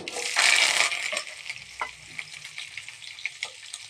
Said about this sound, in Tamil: இப்போ வெங்காயமும் கருவேப்பிலை ஆட் பண்ணிக்கலாங்க